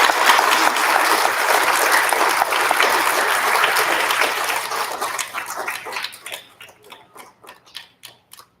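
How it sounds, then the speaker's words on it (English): Applause fills a room at an elementary school student recognition ceremony, dense clapping for several seconds that thins out into a few scattered, isolated claps before fading. "Big round of applause for our third grade."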